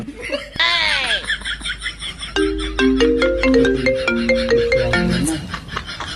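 A mobile phone plays a loud melodic ringtone, a run of clear electronic notes that repeats steadily. Laughter and a short voice come just before it.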